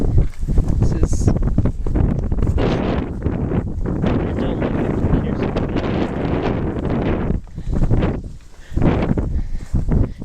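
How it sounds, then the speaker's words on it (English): Strong wind buffets the microphone outdoors near a bird nest, a loud rough roar with gusting surges and brief lulls, dropping away and returning near the end. "it was really windy today"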